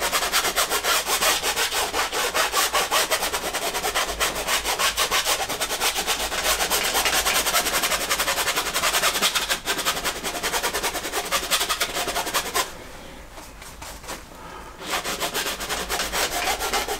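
A paintbrush scrubs blue oil paint onto canvas in a loud, continuous bristly rubbing that fills the clip, pausing briefly near the end before resuming.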